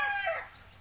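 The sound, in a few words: chicken crowing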